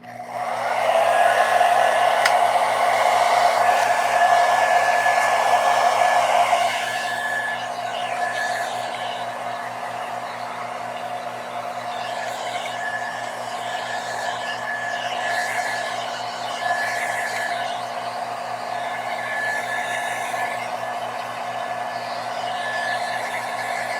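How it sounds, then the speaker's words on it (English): A blow dryer drying a watercolor and gouache spring landscape painting runs as a loud, steady whirring roar. It is slightly louder for the first seven seconds, then holds a constant tone close by with no talk. "let me just use my blow dryer and dry things so that I can layer the gouache properly on top"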